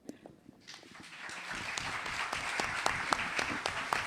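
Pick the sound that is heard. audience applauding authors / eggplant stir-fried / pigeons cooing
audience applauding authors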